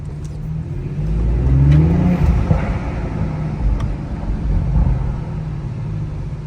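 A 2023 Audi RS5 Competition with a resonator delete revs with a deep, raspy exhaust drone, rising and falling under steady road rumble.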